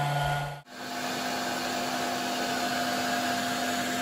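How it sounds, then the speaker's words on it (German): A hair dryer runs off a 12V 200Ah battery and solar setup, a steady loud whirring drone that cuts in after a brief pause and holds evenly to the end. "So, der Föhn läuft."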